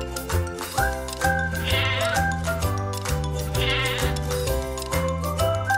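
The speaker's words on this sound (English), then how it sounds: "S for sheep." A sheep bleats in several drawn-out calls over a steady, fairly loud bed of background music.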